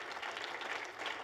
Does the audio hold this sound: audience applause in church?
yes